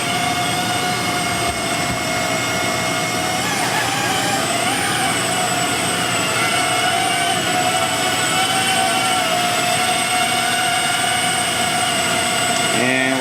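Mini QBiT quadrotor drone hovering indoors, a loud steady high-pitched multi-toned propeller whine that wavers slightly in pitch throughout.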